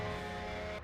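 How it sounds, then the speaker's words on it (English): Truck horn in Farming Simulator, a loud sustained blast that holds a steady chord for under a second and then cuts off abruptly. "Now that's a horn."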